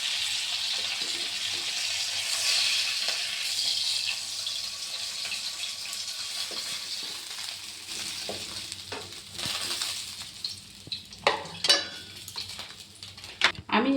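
Foli fish frying in a pan of hot oil for a Bengali fish curry, a steady loud sizzle that fades later, with scattered clinks of utensils against the pan.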